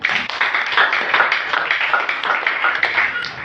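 A congregation clapping for Jesus during a Swahili church service, a dense run of brisk overlapping handclaps at a steady, lively pace, fairly close and continuous throughout.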